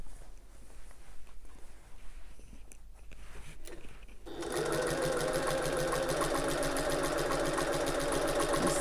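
A sewing machine stitches a tote bag, quiet handling for about four seconds and then a steady, close motor whir with a fast needle chatter that keeps going to the end.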